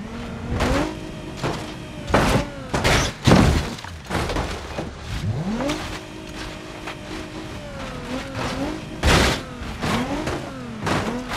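Repeated car crashes in the BeamNG.drive driving game sound as loud impacts with shattering glass and crunching metal, mixed with revving engine whines between hits.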